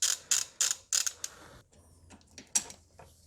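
Close, crisp ratchet clicks as a 14 mm socket loosens a bracket near the intake manifold of a 1.5 Mazda 2, several quick bursts of clicking followed by a few softer clicks and light metal creaks.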